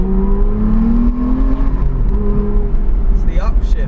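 An Aston Martin supercar's engine revs and rises in pitch through several upshifts, heard from inside the cabin with a voice talking over it.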